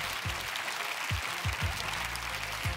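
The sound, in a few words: audience applause on a TV dance show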